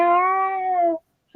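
A voice imitates a tomcat's drawn-out mating yowl during a nighttime courtship, one long, loud, nasal wail that holds steady for about a second before cutting off.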